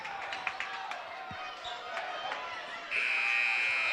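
A basketball game buzzer at the end of the first quarter in a high school gym sounds as a loud, sustained tone entering near the end and holding steady over crowd noise and bouncing, with commentary voices around it.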